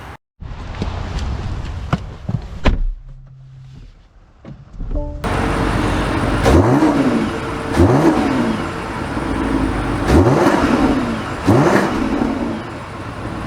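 A 2024 BMW X7 M60i with its V8 engine, starting off quietly and then driving and accelerating through several repeated rising rev sweeps and gear changes, steady and close with road noise beneath.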